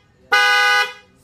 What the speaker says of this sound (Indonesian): Klakson CRV.